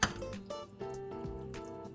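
A spoon stirs pasta sauce in a pot, giving a few soft metallic clinks and scrapes against the pan over two quiet seconds.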